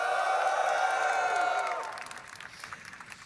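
A big live crowd at the IEM Katowice 2022 CS:GO esports arena cheers and whoops loudly, a sustained roar that swells at first and then fades to scattered claps and shouts.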